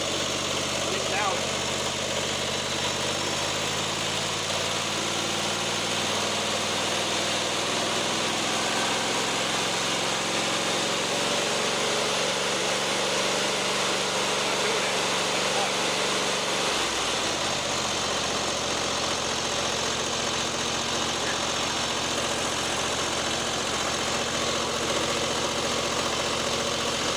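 Repaired lawnmower engine running steadily nearby, still slightly uneven after earlier misfiring, with a drop in engine pitch partway through; a person talks over it at times.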